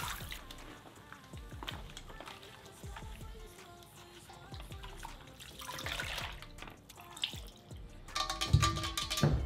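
Water runs steadily from a tap while hair is rinsed of dye, a continuous splashing wash with scattered drips and a louder burst of spray toward the end.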